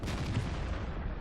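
A tank cannon shot in World of Tanks, from an AMX M4 45 match: a single dense, broadband boom with a rumbling low-end tail filling the short moment, with no talk over it.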